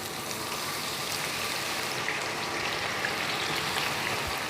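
Chopped onions hitting hot ghee and sizzling steadily over high heat for a wedding-style chicken korma, a dense, even crackling hiss close up that holds without pause, heard alone.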